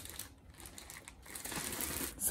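Soft crinkling and rustling of a plastic bag holding a Ring-Con, irregular and close, growing a little louder toward the end.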